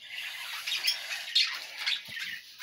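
Pet budgerigars in a home breeding setup with a nest of chicks squawk and chatter continuously, with overlapping shrill calls and a few louder squawks, fairly close and alone without talk.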